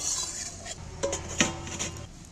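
A metal lid clinks and rattles onto a pot of cooking jackfruit curry, a few light clanks in a quiet kitchen.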